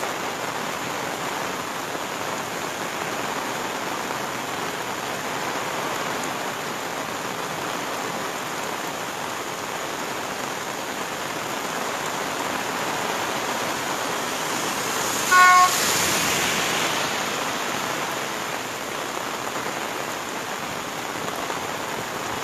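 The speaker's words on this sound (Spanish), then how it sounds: "Este incremento del río debido a las lluvias." Floodwaters of the Ramos river, swollen by rain, rush in a steady, broadband roar that holds evenly throughout, with a brief brighter splash or knock near the end.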